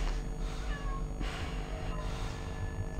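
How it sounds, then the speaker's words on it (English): A cat meows in the background over a steady hum, with two or three drawn-out, plaintive meows spaced a second or so apart. "y'all hear my cat in the background, bro? She wants out, man."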